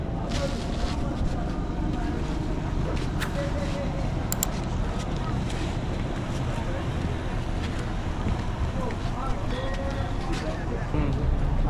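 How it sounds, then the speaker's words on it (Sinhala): A small boat moves across the sea on a Shark Bay trip. A steady, dense roar of engine, rushing water and wind buffeting runs throughout, with muffled voices faintly underneath. "අද අපි යන්නේ පොඩි බෝට්ටුවක්"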